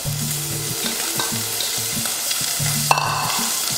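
Bacon fries in a pan with a loud, close, dense crackling sizzle throughout, a sharp tap of a utensil near the end, and a low rhythmic hum underneath, no voices.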